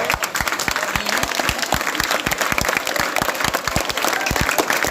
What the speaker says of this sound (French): Maître Fanfan Stéphane, que je vous demande d'applaudir.